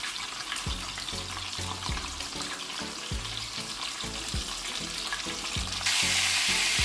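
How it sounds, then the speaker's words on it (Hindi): Seekh kebabs cook on a tawa over a medium-to-low flame with a steady, close sizzle and a low repeating thump underneath, growing slightly louder in the final second. "मीडियम टू स्लो आंच के ऊपर हम कबाब को पका लेंगे"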